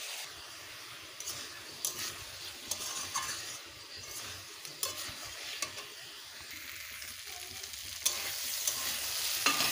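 Water poured into a simmering soybean and potato curry in a pan, sharp spitting sizzle and hiss with repeated stirring scrapes, close and steady across the whole stretch.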